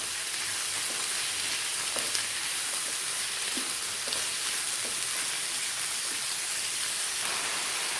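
Potatoes sautéing in a pan for a potato and egg omelette, giving a steady, even sizzle and crackle throughout with a faint stir or two and no talking.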